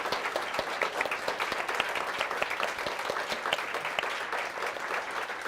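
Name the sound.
audience applause for a poetry panel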